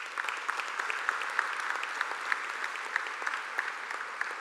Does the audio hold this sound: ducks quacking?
no